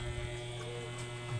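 A noisy electric fan hums steadily at close range, a constant low drone with a faint buzzy edge that holds unchanged throughout, with no voices over it.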